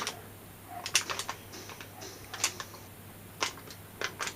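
Fingers tap on Commodore 64 keys while Starglider plays, producing sparse, quiet clicks in small clusters separated by pauses, close to the listener over a faint steady hum.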